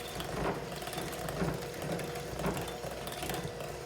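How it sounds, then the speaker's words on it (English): Electric hand mixer whirring steadily through brownie batter for cream cheese swirl brownies, a continuous close motor buzz with faint rhythmic clatter of beaters in the bowl. "now we're gonna blend this together with our hand mixer"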